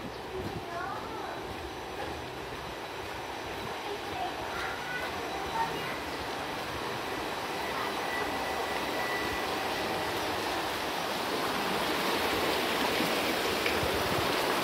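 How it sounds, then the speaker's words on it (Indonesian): A river flowing past a residential alley neighborhood in Bandung in the morning, heard as a steady, broadband rushing wash that holds constant throughout and swells slightly louder toward the end. "Ini kondisi sungai."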